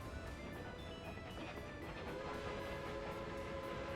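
Steady low rumble and rhythmic clatter of a train running on rails in Workers & Resources: Soviet Republic, continuous and fairly faint with no pauses.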